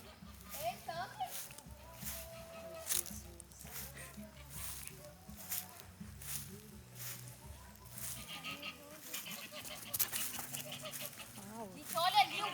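Geese on a rural farm honk and cackle in scattered, fairly distant bursts, mixed with other fowl and overlapped by children and adults talking excitedly nearby.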